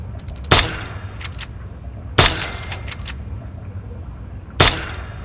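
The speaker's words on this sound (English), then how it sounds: "Think you can take care of that with your BB gun? Just aim and shoot." A BB gun fires at a rat roach in the video game Fallout 3: three sharp, close shots spaced a second or two apart, each snapping out over a low steady background hum.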